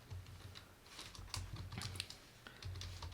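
Quick, light clicks of fingers typing on a computer keyboard as a folder name is entered, bursts of keystrokes close up with brief pauses between them.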